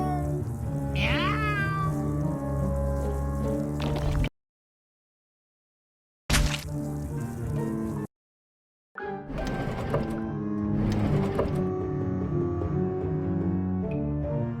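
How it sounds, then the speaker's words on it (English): Meows of a cat in American McGee's Grimm, several clear mewing calls in the first seconds, then stretches of game music broken by two abrupt silent gaps. "Wonder where I can get a nice cat. Meow. Meow."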